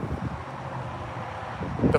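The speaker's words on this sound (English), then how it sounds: "It is quite windy and quite chilly." Wind blowing outdoors on a chilly day, a steady low rumbling gust across the microphone with a brief stronger buffet near the end.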